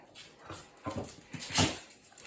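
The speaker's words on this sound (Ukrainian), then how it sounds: "А тут собака Оскар, да?" A small dog whimpers and yips in short, high-pitched bursts, close by indoors, with several whines rising and falling over a couple of seconds.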